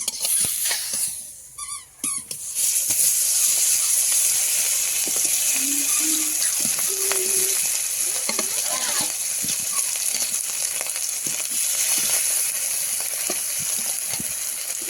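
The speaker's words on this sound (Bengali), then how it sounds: "এবার মাছটা ভাজবো কড়াটাও গরম হয়ে গেছে" Fish rubbed with salt and turmeric frying in hot oil in a wok, a steady close sizzle filling the whole stretch, with a brief dip and a few faint clinks early on.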